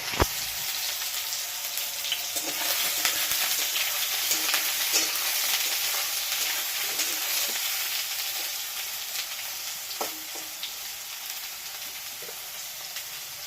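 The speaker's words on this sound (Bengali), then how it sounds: "সয়াবিনটা আমি তেলে ভাজে নেব।" Soybean chunks fry in hot oil alongside potatoes for a potato curry, making a constant close crackling sizzle with faint occasional stirring taps. No one speaks.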